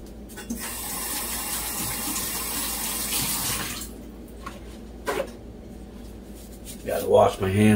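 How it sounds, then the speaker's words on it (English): Hands being washed under a running kitchen tap after handling garlic, a steady near stream of water for several seconds that stops, followed by a few brief splashes and clatters. "Gotta wash my hands"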